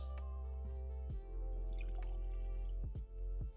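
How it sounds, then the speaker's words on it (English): A drink poured into a glass, a faint liquid trickle with a few drip-like splashes over a low steady background hum, quiet and close. "Pouring it in the glass."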